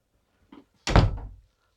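A bedroom door in a travel trailer swings shut with a light click followed by a solid, close thunk, heard once with nothing else around it.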